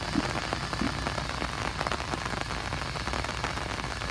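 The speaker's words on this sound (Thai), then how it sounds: "ฝนก็ไม่หยุดสักที" Heavy rain patters steadily on a hard surface, a constant close drumming of drops with no voices.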